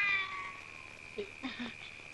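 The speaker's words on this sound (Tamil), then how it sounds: "இது பூனை" A cat in a Tamil comedy scene lets out several short, faint meows close together, heard alone over a steady background tone.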